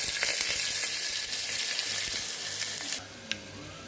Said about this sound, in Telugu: ఇప్పుడు 2 ఒట్టిమిరపకాయలు, 2 మిర్చి, తగినంత కరివేపాకు, పచ్చడి వంచుకున్న తెల్లగడ్డ,